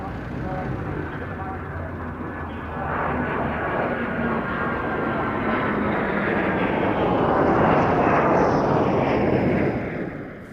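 A Comet jet airliner passes overhead at the Duxford airshow. Its engine roar is loud and steady, swelling toward the end as the aircraft nears and then fading slightly.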